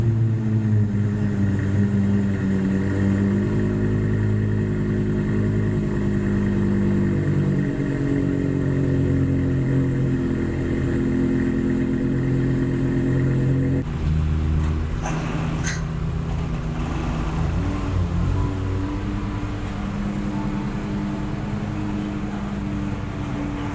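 A Lexus LFA engine idles steadily close by, then its tone shifts partway through with a few sharp revs over a continuous mechanical drone, with no voices.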